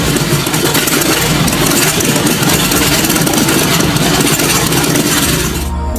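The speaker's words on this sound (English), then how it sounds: "The monster car you see on the screen is powered by nothing less than a V12 jet engine, capable of producing up to 750 horsepower." A custom monster car powered by a V12 jet engine rated at up to 750 horsepower runs with a loud, continuous deep roar and vibrating rumble, steady throughout before easing slightly at the end.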